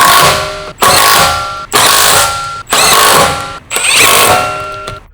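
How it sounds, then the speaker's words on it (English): An electric impact wrench with a 19mm long socket tightens the wheel lug nuts on a Ford Focus ST. It gives five loud, close, rattling hammer bursts, each about a second long with short gaps between them. "Using the 19mm long socket with the electric impact wrench, tighten the lug nuts."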